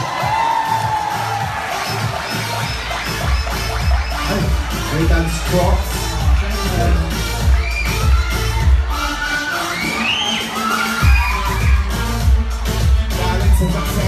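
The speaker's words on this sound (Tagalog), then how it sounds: "Palakpakan namin kasamang sigawan!" Audience at a Filipino variety show applauding and shouting, loud dense clapping with whoops and cheers over pounding music, and a voice briefly speaking near the start.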